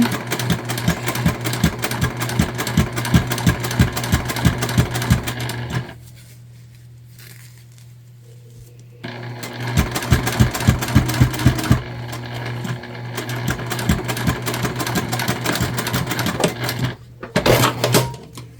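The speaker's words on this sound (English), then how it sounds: "we're gonna close it up with just a little side stitch, 1/8 of an inch away" A sewing machine runs a short side stitch closing up a tote bag, in rapid stitching bursts with a pause partway and a final brief run, loud and close with no talk.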